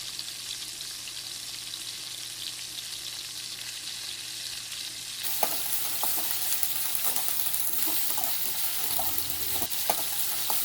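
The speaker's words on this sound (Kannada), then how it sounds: "ನಾನು ಇವಾಗ ಆಯಿಲ್ನ ಆ್ಯಡ್ ಮಾಡಿಕೊಂಡು ನೀಟಾಗಿ ಫ್ರೈ ಮಾಡ್ಕೊಳ್ತಿದ್ದೀನಿ" Okra frying in oil in a pan for a village-style bendekayi gojju, a steady close sizzle that grows louder and busier partway through, with occasional stirring clicks.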